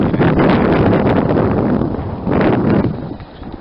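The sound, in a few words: wind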